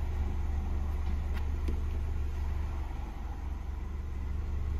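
An Audi car engine idles at a constant speed, a quiet, even low hum that stays smooth and steady without any revving.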